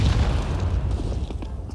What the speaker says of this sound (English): Excellent flashbang.